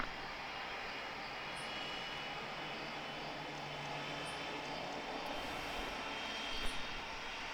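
A heavy cargo jet on final approach to runway 27 at a Cincinnati cargo hub in an airport tower simulator game, a steady broadband jet roar holding throughout at moderate level with no talk.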